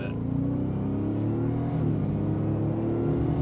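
A 2023 Ford F-150 Raptor R pickup truck, lifted and accessorized, accelerating hard, its engine giving a loud, continuous low roar that builds steadily and stays close throughout, with no talking.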